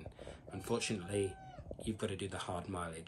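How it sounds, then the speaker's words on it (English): A house cat meows twice in drawn-out rising calls, close by, while a person talks over it. "and that's my cat"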